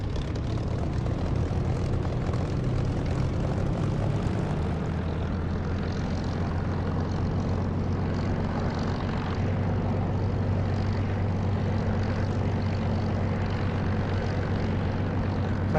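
Propeller aircraft engine in the DCS flight simulator throttling up while taxiing, a steady loud droning hum with a rising tone and constant low rumble, no talk.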